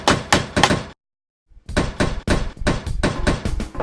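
A pork chop is pounded thin in a kitchen, producing rapid bursts of loud, close thumps in an uneven rhythm, broken by one short pause before the blows resume.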